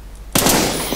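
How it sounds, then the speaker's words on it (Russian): A sharp gunshot bursts in after a moment of near silence in the Stalker Online video game, a loud crack whose noisy tail rings on to the end. "два выстрела"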